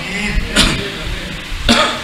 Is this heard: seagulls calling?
no